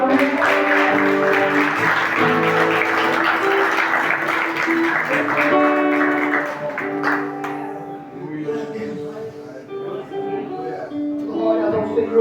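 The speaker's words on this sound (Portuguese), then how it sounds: "Aplauda o Senhor." A church congregation claps through a family worship service, the applause dense at first and then thinning out, heard beneath sustained keyboard or organ chords and a voice speaking over the music.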